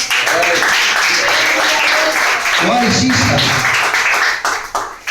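A church congregation claps steadily and loudly in a dense, continuous wash of hand claps with voices mixed in, tapering slightly at the very end.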